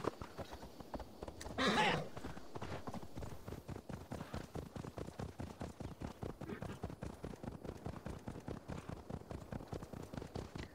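Horse hooves in Assassin's Creed Valhalla clip-clop in a steady, even rhythm throughout at moderate loudness, with a brief louder whoosh near the start.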